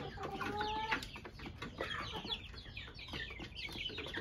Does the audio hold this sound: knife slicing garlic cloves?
no